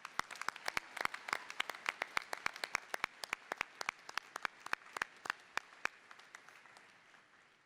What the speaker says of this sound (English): Another round of applause for the Range.